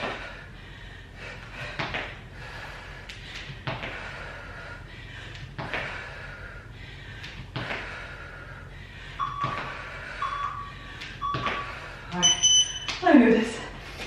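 A workout interval timer gives several short electronic beeps near the end, while a person talks over a quiet room.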